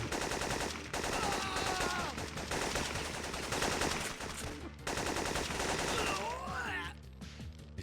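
Rapid automatic gunfire in the Syphon Filter video game, loud and nearly continuous in long bursts with a brief pause in the middle, along with some tonal game sounds.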